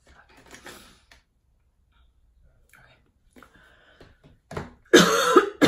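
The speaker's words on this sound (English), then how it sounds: "Excuse the cough" A single harsh cough from someone coming down with a slight illness bursts out loudly near the end, after several seconds of quiet with soft faint rustling and whispery sounds.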